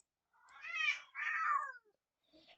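A cat meows twice in long drawn-out cries, close and clear, followed by a short fainter mew.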